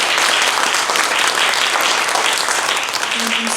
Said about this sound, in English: please give Dr. Catterson a very warm applause.